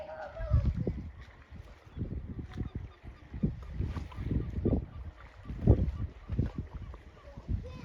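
A kayak is paddled on the sea in Norway, with rhythmic splashing paddle strokes and wind buffeting the microphone, under occasional talk.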